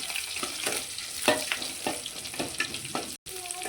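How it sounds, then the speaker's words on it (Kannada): Onion frying with garlic, curry leaves and green chillies for a Mangalorean-style beetroot palya, a steady close sizzle with repeated scraping stirs and a brief silent gap near the end. "ಇವಾಗ ಇದೆಲ್ಲ ಒಟ್ಟಿಗೆ ಚೆನ್ನಾಗಿ ಫ್ರೈ ಆಗಬೇಕು"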